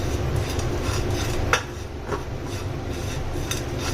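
Coconut and curry leaves roasting in a pan, a steady close sizzle with scattered light spatula scrapes and one sharper clink of utensil on the pan.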